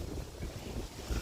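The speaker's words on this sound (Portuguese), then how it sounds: "Vento forte nesse momento e a água tá prometendo" Strong wind gusts buffet the microphone outdoors in Sertãozinho on an overcast afternoon before rain, a loud, rough low roar with brief thumps and no speech.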